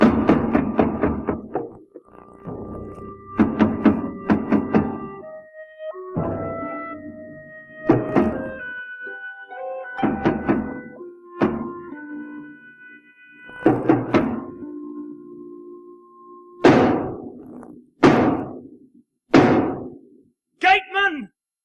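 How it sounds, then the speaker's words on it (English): Heavy knocking on a gate in a 1983 staging of the Oresteia's Libation Bearers comes in repeated clusters of hollow thuds, loud and close, spaced across the clip and interleaved with sustained tonal music. "can't you hear all this knocking?"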